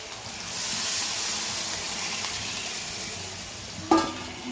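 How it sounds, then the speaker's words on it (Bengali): Water poured into a simmering homestyle desi chicken curry sets off a steady hiss and sizzle lasting several seconds, closing with a single sharp metallic clank near the end; no one talks. "আমি জল দিয়ে দেবো"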